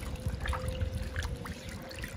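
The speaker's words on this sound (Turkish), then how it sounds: "Şimdi işkembemizin dördüncü ağız yıkaması." Tripe is rinsed under hot water, with a soft trickling and splashing stream running close by for a couple of seconds and a faint steady hum underneath.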